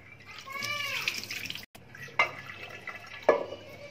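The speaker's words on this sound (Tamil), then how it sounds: "பருப்பை கழுவி எடுத்துக்கலாம்." Chana dal lentils are washed in water, with soft close sloshing and splashing, a few brighter drips and splashes, and faint squeaky handling noises, no speech.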